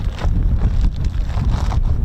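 Strong gusting wind buffets the microphone at a windy outdoor spot by the RAF Holbeach air weapons range, a loud continuous rumbling roar with surging gusts and no voices.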